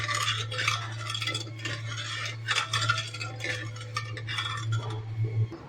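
Sugar being stirred into a liquid to dissolve for a bhang thandai, a spoon scraping and clinking against the vessel in uneven repeated strokes over a low steady hum, close and without talk.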